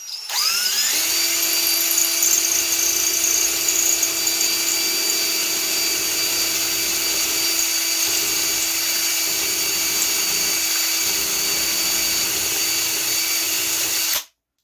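Power drill boring a clean hole in a wooden model kit part at high RPM: one sustained, loud, steady high-pitched whine that spins up quickly, holds evenly for about thirteen seconds, then stops abruptly.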